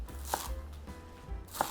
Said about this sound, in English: Coarsely chop the komatsuna too.